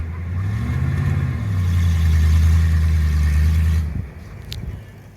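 The engine of a mini S10 monster truck runs loud and close, a deep droning hum that swells and bends in pitch as it revs, then cuts off abruptly near the end, leaving quieter background noise.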